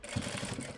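A sewing machine stitching fabric for a doll dress, a brief run of rapid, even mechanical chugging, close and moderately loud, with no voices.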